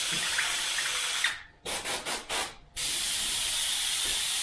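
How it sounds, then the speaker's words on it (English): An airbrush sprays thinned opaque black paint over a silver mudguard as a dusted-on wet coat. It gives a steady close hiss, broken midway by a run of short sputtering bursts before the continuous spray resumes. No one speaks. "I'm running the airbrush around"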